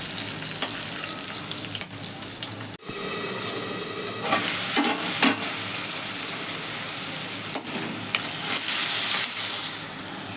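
Green chillies go into hot oil where mustard seeds have already popped, tempering for Gujarati patra; a steady close sizzle and frying hiss runs throughout with stirring clatter.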